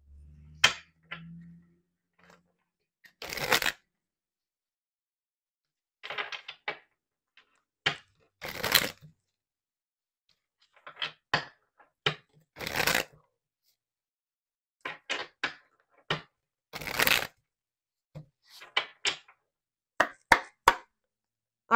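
A tarot card deck is handled and shuffled close by in a silent room. Sharp snaps, slaps and taps come in irregular clusters separated by brief pauses, and no one speaks.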